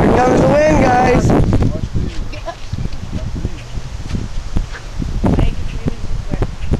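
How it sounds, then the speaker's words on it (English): Strong gusty wind buffets the microphone as a tornado approaches, a continuous roaring rush with irregular surges, while people talk excitedly nearby at the start and briefly later. "Here comes the wind, guys."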